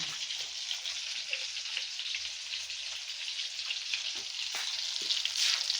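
Potato tikkis fry in a frying pan, a dense, steady sizzling hiss heard up close with faint low clinks and no voices.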